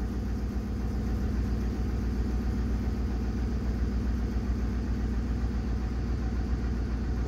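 A Ford 5.4L Triton engine idles steadily after a cold start on 5W-30 synthetic oil, with a close, even low rumble and a constant mechanical hum and no voices.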